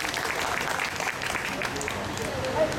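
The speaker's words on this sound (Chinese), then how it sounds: "掌声鼓励" Outdoor audience clapping at a festival stage before a Yilan local Taiwanese opera troupe performance, steady dense applause across the whole span with crowd noise mixed in.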